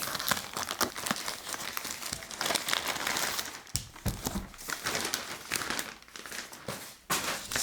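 Cardboard shipping box for a Xiaomi Mi Notebook Air 13.3 laptop being opened up close, with continuous crinkling, rustling and tearing of packaging and short sharp rips throughout.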